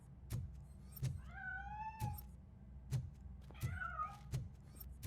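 Cat meowing in the RoboCop Rogue City video game: two drawn-out, wavering meows, close and clear, set against a steady low engine-like rumble and soft periodic thumps.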